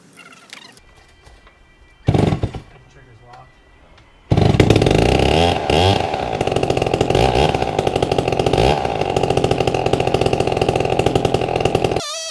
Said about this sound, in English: The chain was dull, and the saw kept bogging down